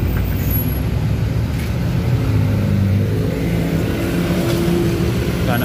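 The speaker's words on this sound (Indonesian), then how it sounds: "Dan bus Mira dia berangkat teman-teman." Mira intercity bus departing a crowded terminal at night, its heavy diesel engine rumbling and revving loudly and steadily, with busy traffic noise around and no clear speech.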